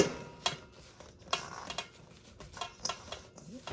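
A flour and water mixture is folded into falafel mix with a utensil, giving soft wet stirring and scraping with repeated light clinks against the bowl, close and fairly quiet, with no talk.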